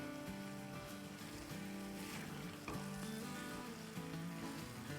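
Fried vegetables being stirred into a sauce in a pan, with a steady sizzle and faint scraping of the stirring utensil running throughout, close and continuous.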